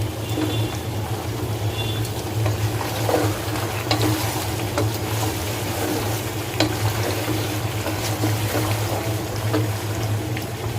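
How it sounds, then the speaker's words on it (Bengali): Beef pieces fry in a pan as their liquid cooks off, giving a steady loud sizzle with continuous stirring and occasional scrapes against the pan. "মাংসের মধ্যে পানিটা শুকিয়ে একটু ভাজা ভাজা করে নিব"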